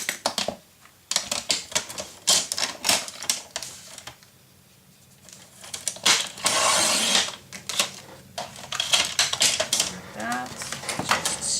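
Blade trimmer slicing paper for a scrapbook mini-album, repeated clicking, ratcheting and scraping strokes in short bursts with a longer rasping sweep near the middle, close and fairly quiet.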